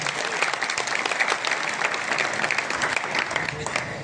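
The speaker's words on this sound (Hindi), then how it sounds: "एक बार हनुमान जी के लिए जरा ताली बजा दीजिए।" Dense applause from a crowd at a Hindu religious gathering, clapping for Hanuman, steady and fairly loud throughout with a few voices mixed in.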